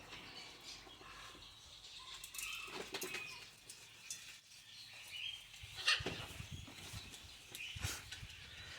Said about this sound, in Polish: to takie ciekawskie papugi